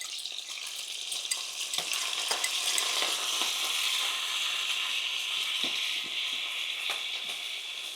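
Ginger and garlic fry in hot oil in a pan for pork belly curry, a steady bright sizzle running throughout, with occasional scrapes and knocks as they are stirred.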